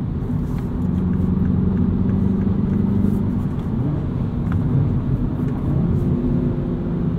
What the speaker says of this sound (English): we've just got a little bit of noise over potholes from these 18-inch wheels